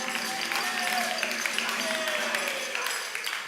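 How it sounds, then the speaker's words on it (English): Quiz-competition audience applauding a university team, moderate steady clapping at medium distance with faint tonal sounds and some voices mixed in. "A round of applause to them."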